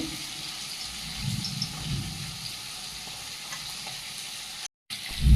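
Crushed garlic and five-spice seeds hit hot oil in a pan, giving a steady close sizzle and crackle that holds throughout, broken by a brief silent gap near the end.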